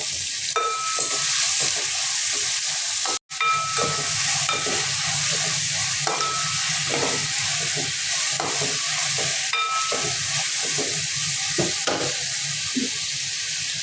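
Sliced onions salted and sautéing in a pan for a Kerala-style chicken curry, a loud continuous sizzle with rhythmic scraping strokes of a spoon, close up, with one brief dropout near the start.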